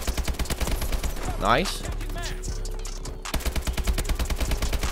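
Rapid automatic gunfire bursts from Call of Duty: Advanced Warfare, with dense repeated shots at the start and end, a brief sweeping effect in the middle, and a voice speaking briefly over it.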